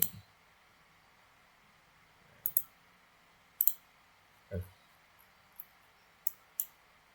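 Computer mouse clicks while working in DIPS joint analysis software, about seven sharp, quiet single and double clicks spaced irregularly over a faint hiss.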